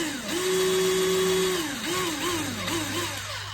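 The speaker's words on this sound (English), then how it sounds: "put your flower in the end of the drill like that" A power drill spins to roll a paper flower, whining loudly with a steady high pitch that dips and rises in repeated short surges as the trigger is eased and squeezed.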